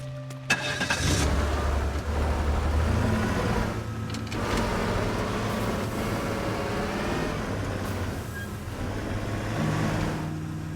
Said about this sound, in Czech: Si rovnou odsud vyparkuju ven.